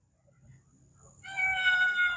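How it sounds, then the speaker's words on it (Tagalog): A cat meows once from a terrace, a drawn-out, fairly loud call that rises out of a quiet background of faint low hum. "May pusa."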